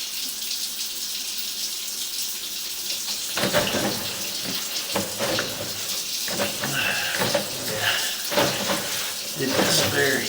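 Water runs and splashes into an underground drain line during a sewer camera inspection, a continuous rushing gurgle that grows busier and louder midway, with irregular sloshing bursts and faint background noises.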